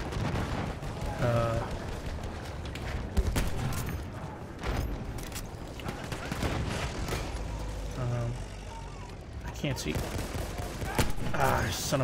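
Martini-Henry rifle shots ring out in a Battlefield 1 battle, several sharp cracks spread irregularly through a loud, busy soundscape of combat noise with someone talking over it.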